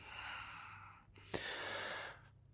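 A deep breath during a dynamic vinyasa yoga session, a long broad airy exhale followed by a sharp audible intake and another sustained breath, close and fairly loud over a low steady background hum.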